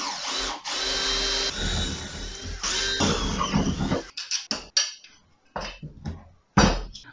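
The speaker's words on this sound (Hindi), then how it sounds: "अब यहाँ पर होल कर देते हैं" A power drill bores a hole through welded steel pieces for a homemade brick and cinder block lifter, a loud steady grinding whine for about four seconds, then broken into short bursts with pauses between.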